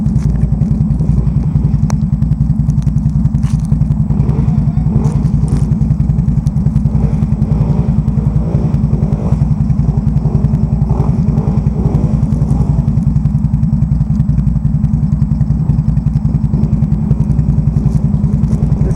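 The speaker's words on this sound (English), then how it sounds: "Can-Am 1000, take 2." A Can-Am 1000 ATV engine runs loud and steady as the machine rides through deep mud, with a continuous throbbing drone and occasional clatter and thumps, no talk.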